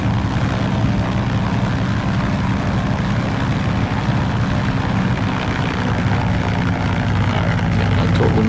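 A de Havilland Beaver floatplane in a flight simulator game taxis on pavement, its propeller engine droning steadily and loudly without a break, with no talking.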